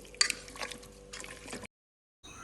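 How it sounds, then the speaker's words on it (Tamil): A little water poured over chicken mixed with chilli powder and ginger-garlic paste: a short splashy trickle with wet squishing, close and fairly quiet, cutting to silence before a faint hum resumes. "கொஞ்சமாக தண்ணி ஊற்றி"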